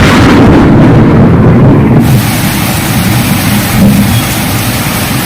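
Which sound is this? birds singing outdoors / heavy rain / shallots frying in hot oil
heavy rain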